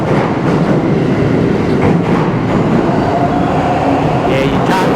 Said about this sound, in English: Train up there, if you didn't know where a train was.